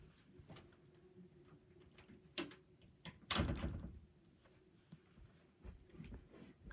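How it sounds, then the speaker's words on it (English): A bedroom door closing in a house with a TV on elsewhere, a single solid thump mid-clip with a few lighter knocks and rattles around it, faint and close against quiet room tone. "Because I need to close my door."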